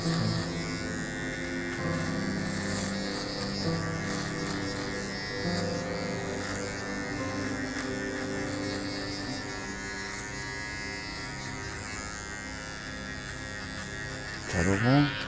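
Electric hair clipper fitted with a 6mm guard buzzes steadily while cutting a student's two-block haircut, a close, continuous drone with faint handling noise and no talk.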